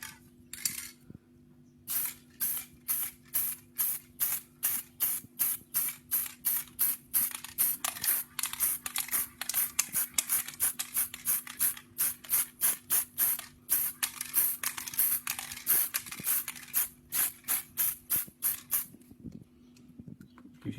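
Marine blue spray paint being dusted onto a magazine in short, rapid hissing bursts, dozens of them in a quick irregular rhythm, close and clear over a faint steady hum.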